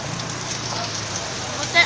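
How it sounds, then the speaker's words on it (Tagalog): Heavy rain pours steadily, a dense close hiss of drops on surfaces during a downpour, with no breaks and a faint bump near the end. "Rinig nyo naman siguro yung ulan"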